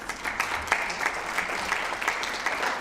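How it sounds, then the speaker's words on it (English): A seated audience at a philanthropy and sustainable development forum claps steadily, a moderate, even patter of many hands with a few sharper individual claps poking through. "I'm glad everybody's clapping"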